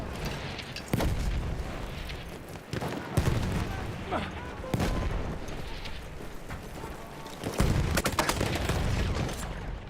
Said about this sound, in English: I could still detonate the dynamite